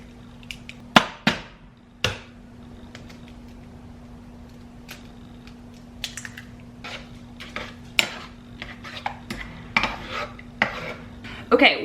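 Eggs are scrambled in a pan on the stove, with a utensil scraping and knocking against the pan in irregular bursts of sharp clinks over a faint steady hum, close by and without speech.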